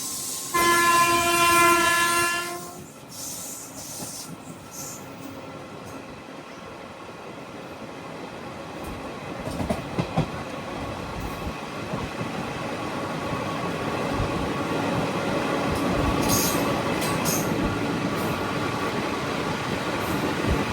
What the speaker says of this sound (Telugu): అరుణాచలం నర్సాపురం ట్రైన్ అది.